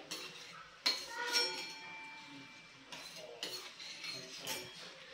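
A spoon mixing freshly grated nutmeg into a jaggery mixture, with a few sharp metallic clinks and scrapes against the vessel separated by quieter stirring pauses.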